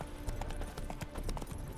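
Roach, a horse in The Witcher 3, clip-clops along at a steady walk, hooves thudding and clicking in an even rhythm, moderately close with light background ambience.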